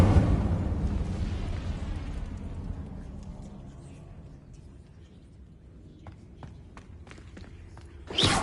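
An Incendio fire spell cast in Hogwarts Legacy on PS5 erupts in a loud broadband whoosh that slowly fades over several seconds, followed by a few faint clicks and a final short burst.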